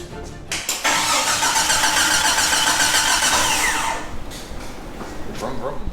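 A Jeep with a 4.6 stroker engine cranks over and catches, roaring loudly and steadily for several seconds before settling to a rougher idle.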